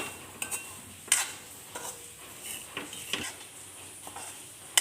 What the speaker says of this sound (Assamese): এনেদৰে ভাজি আছোঁ,